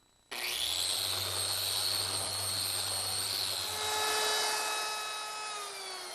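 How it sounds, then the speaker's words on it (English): A random orbit sander kicks in abruptly and runs steadily as it smooths wooden entry door parts, its close, loud whirring hum shifting slightly in tone toward the end. "there's always room for a little sanding with the random orbit sander."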